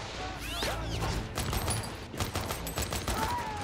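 Gunfire and explosions from a war film about a tank crew in World War II, with several sharp bursts and crashes over a dense battle din at moderate level, with no voices.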